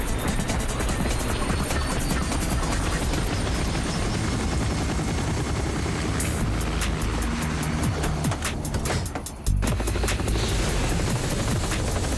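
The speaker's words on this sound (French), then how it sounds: "Montez dans l'hélicoptère." Helicopter in an animated action scene, a loud continuous rotor roar with rapid chopping blade pulses, briefly cut off near the end before resuming.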